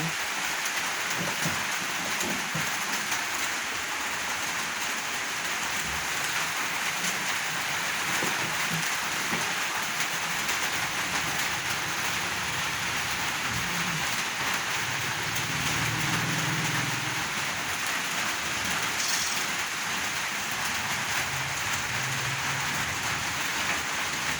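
Steady, dense rainfall pattering on surfaces for the whole stretch, with a faint low rumble partway through.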